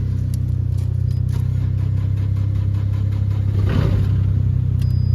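A car engine idles with a steady low rumble, then swells briefly as the accelerator is pressed in a short rev that fades back to idle.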